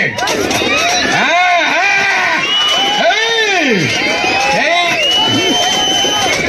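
A crowd cheers and shouts loudly at an Ugadi festival weightlifting contest in Tadipatri, with overlapping whoops, rising yells and children's voices in continuous excited hubbub.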